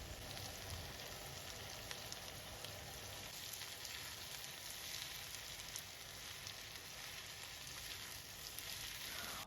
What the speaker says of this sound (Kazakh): Қызып тұрған табамызға майымызды құйып, пиязымызды және перецімізді салып, тұзымызды салып, әбден жұмсарғанша қуырамыз.